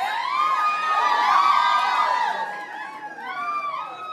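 Women in a church youth event audience cheer and whoop, high shrill voices rising to a loud peak, dipping briefly, then swelling again in excited overlapping shouts.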